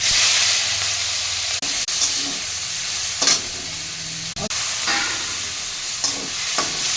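Nigella seeds, a dried chilli, green chilli and ginger frying in hot oil in a pan, a loud steady sizzle with a few sharp stirring scrapes and brief dips, close up and without talk.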